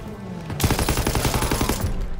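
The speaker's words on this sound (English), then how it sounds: "That's right, using an MG, huh?" Sustained machine gun fire in the World War II shooter Call of Duty WW2, a loud rapid burst of evenly spaced shots starting abruptly and rattling on for well over a second, close and dominant with no talk.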